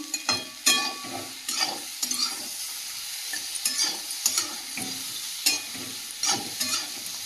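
Crab with brahmi greens is stir-fried in a pan, with a soft sizzle throughout and repeated scraping and clinking strokes of a spatula against the pan at an irregular rhythm, close and fairly loud, with no talking.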